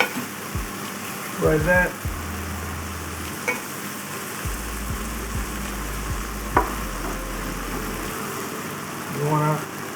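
Beef frying over very high heat in a pan for a quick mushroom stew, a steady loud sizzle throughout with occasional stirring clinks while a person talks briefly.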